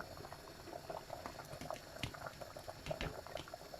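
Okra and spinach sauce boils in a pot, a steady bubbling simmer with frequent small pops and gurgles at close range, continuous and moderately loud with no talking.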